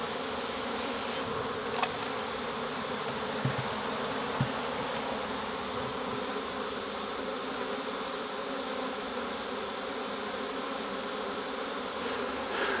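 Dense, steady buzzing of a wild bee swarm at a ranch, a continuous drone filling the air throughout, with a few faint knocks and no talking.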